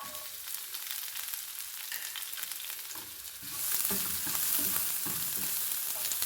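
Finely chopped onion sautés in a pan over medium flame for homemade pizza sauce; a soft sizzle swells louder partway through as stirring scrapes join, close by and without talk.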